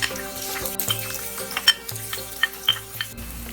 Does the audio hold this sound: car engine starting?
no